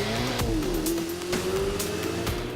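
A Ferrari 488 GTB lapping the Fiorano track, its engine note rising steadily under load in a loud, sustained drone with brief sharper bursts, no talk.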